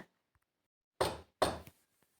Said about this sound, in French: le loup se mit à courir de toute sa force par le chemin qui était le plus court, à la maison de la grand-mère, et frappa à la porte.